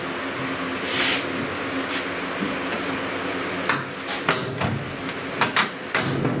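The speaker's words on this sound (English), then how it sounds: "I was also working the door, watching it compress the rubber" A run of dull thumps and soft knocks as a vehicle door is pushed shut against its rubber seal, repeated several times in a quiet space.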